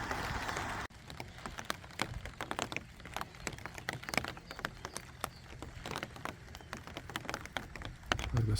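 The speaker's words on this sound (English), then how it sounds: "The sound is the rain on my umbrella." Rain patters on an umbrella held overhead outdoors, with dense irregular taps close to the listener and a light continuous wash of drops behind them.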